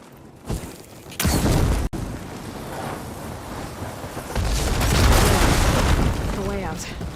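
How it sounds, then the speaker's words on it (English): Fire-ammo blasts blowing up tunnel debris walls in Horizon Forbidden West: a sharp boom near the start, then a loud, sustained rumbling burst of crumbling rock later, with game ambience throughout. "I should be able to blow this up to clear the debris"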